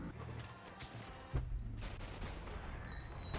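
A single sharp gunshot in the VR shooter Boneworks zombie mode, a sudden thump rising out of a busy, noisy game soundscape with scattered clanks and mechanical sounds around it.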